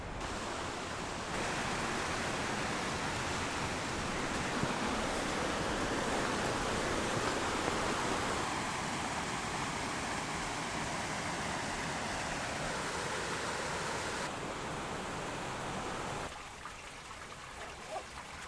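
A small gorge creek flows through wild hunting country, a steady broad rush of water heard close and continuous, softening and dropping away near the end.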